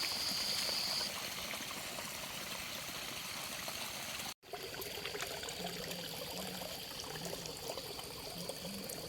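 Water flowing in a small stream, trickling and gurgling softly and steadily at close range, with a faint high tone and a brief dropout partway through.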